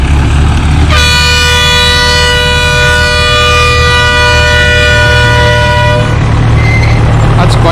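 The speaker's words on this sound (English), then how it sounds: "So that's the small train here" The small visitor train at a railway museum sounds a loud, sustained horn for about five seconds, close by, over constant engine rumble and running noise.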